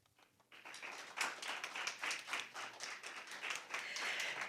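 Clapping breaks out after a girls' high school team closes its speech at a 2024 school debate, a steady crowd patter that keeps going at an even level.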